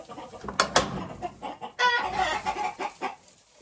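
Backyard hens around a ground-level nest cluck and squawk in short, uneven bursts, fairly faint and close by, with a brief louder flurry partway through and no talking.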